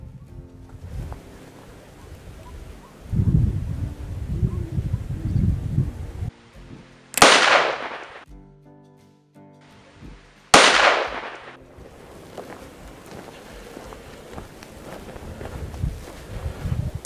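A Zenga firecracker is lit and set off outdoors: rustling and shuffling steps, then two sharp, very loud bangs a few seconds apart, each ringing out and fading.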